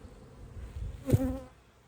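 Honeybees buzz around a hive that has just been moved into a 10-frame box, a faint low hum with one bee briefly droning close past the microphone.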